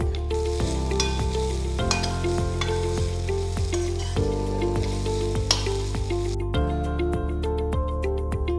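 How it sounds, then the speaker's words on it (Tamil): Crushed ingredients for cabbage kootu are sautéed in a pan with a steady, loud sizzle and stirring throughout, while a tonal melody plays in the background. "இதில் இப்போ நல்லா பச்சை வாசனை போகிற மாதிரி நல்லா வதக்கிக்கணும்."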